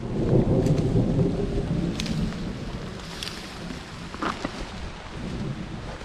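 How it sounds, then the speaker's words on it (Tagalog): Heavy rain pours steadily outdoors while picking fern shoots, with distant thunder rumbling and brief louder cracks, the downpour loud and continuous throughout. "unti-unti na po lumalakas ang ulan"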